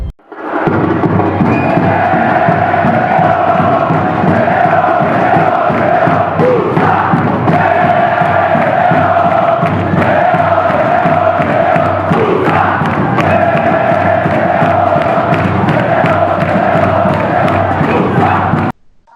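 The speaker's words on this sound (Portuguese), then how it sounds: "depois dessa bela festa da torcida portuguesa no jogo do título" Portuguesa supporters celebrate winning the Brazilian Série B title at the 2011 final match, a dense, sustained roar of crowd cheering and chanting filling the stadium at full volume from start to finish, with no break.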